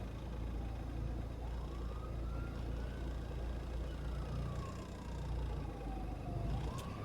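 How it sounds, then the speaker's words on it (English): An ambulance siren wails faintly in the distance behind, its pitch sweeping slowly up and down above a steady rumble of road and engine noise. "now we have an ambulance behind us on the right"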